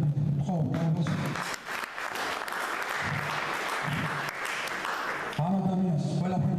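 An audience applauds a woman named Brunadze at a gathering, steady dense clapping filling most of the moment, with talking heard briefly at the start and again as the applause fades near the end.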